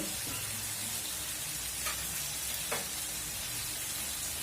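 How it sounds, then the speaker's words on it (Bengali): Chicken pieces fry in their own released juices with no water added, giving a soft, even sizzle throughout with a couple of brief scraping stirs. "একদম এই মাংসের থেকে যে ঝোলটা উঠবে এটাতে কষাবো ভালো করে।"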